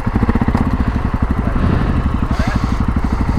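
KTM 690 Enduro R single-cylinder motorcycle engine running close by with a loud, rapid, pulsing thump that rises slightly as the throttle is worked, steady throughout without talk.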